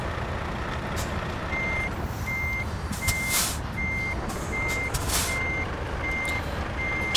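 A haul truck backs into a spot with its reversing alarm beeping in a steady, evenly spaced series over a constant engine rumble. Short hissing bursts, like air brakes, break in twice. No one speaks.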